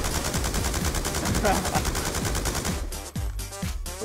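Rapid automatic gunfire rattles in a Black Ops 2 match, loud and continuous bursts of shots for several seconds, ending in a few sharper separate cracks.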